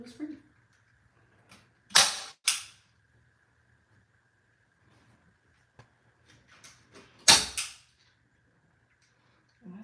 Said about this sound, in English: staple gun is acting up.